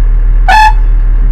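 Air horn on a HYVA 2518 tipper truck blasts once, loud and close, then sounds again briefly at the very end over a steady low engine idle.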